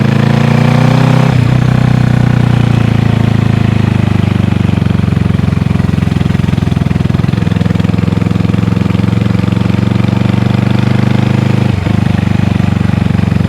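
Honda CB360 motorcycle engine running close and loud, a steady throbbing idle with a couple of brief blips of the throttle, no talk.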